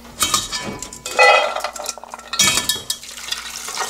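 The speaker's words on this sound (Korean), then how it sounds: "냄비에 다 앉혀볼게요." Raw peanuts rattle and clatter into a metal cooking pot in a couple of bursts, with clinking and scraping against the sides, close and fairly loud.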